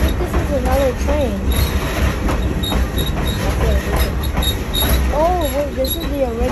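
The Essex steam train on Connecticut's Valley Railroad rumbles and rattles steadily from inside a coach, with wheel clatter throughout and voices talking over it at times.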